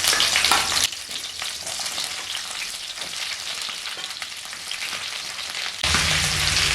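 Cauliflower and quartered potato pieces frying in a pan, a continuous crackling sizzle that drops when the pieces go in, then rises sharply again near the end.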